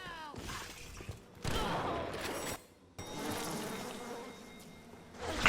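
Bees buzzing in BioShock, a dense insect drone in steady bursts with brief silent gaps, mixed with clattering game effects and no talking.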